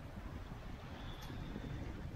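Steady wind roars across a sailboat on the Bay of Biscay as the swell builds, a dense, constant rush close to the microphone with the low churn of water beneath.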